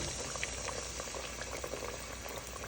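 Tomato crush for multi-meat African jollof fried rice bubbling in a pot, a steady, fairly faint simmering hiss broken by small popping bubbles throughout, with no voices.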